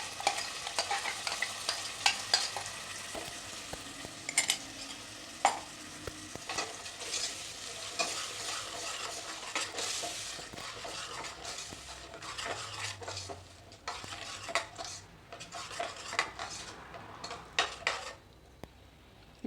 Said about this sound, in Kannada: ಇದನ್ನು 1-2 ನಿಮಿಷ ಹಾಗೆ ಚೆನ್ನಾಗಿ ಇದನ್ನು ಈ ಒಗ್ಗರಣೆಯಲ್ಲೇ ಚೆನ್ನಾಗಿ ಇದನ್ನು ಫ್ರೈ ಮಾಡ್ಕೊಬೇಕು.